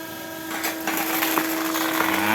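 A tire wire extractor machine pulling two steel bead wires out of a whole tire, giving a steady loud grinding and tearing noise with a constant motor hum and scattered cracks.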